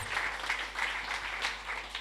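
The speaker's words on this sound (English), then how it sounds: "Give all of them a round of applause." Round of applause from the crowd at a New National Party zonal political meeting in Gouyave, a moderately distant, steady patter of many hands clapping for two seconds.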